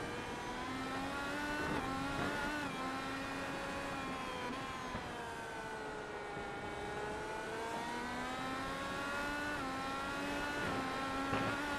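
An IndyCar engine screams through the Indianapolis GP road course in iRacing, its high-pitched whine rising and falling steadily through gear changes, loud and continuous for the whole stretch with no voices.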